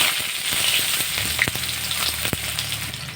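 Nigella seeds and dried red chillies fry in hot oil, a steady close sizzle broken by scattered clicks and taps of a spoon stirring the pan.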